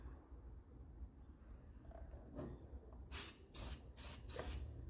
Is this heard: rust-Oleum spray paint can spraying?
yes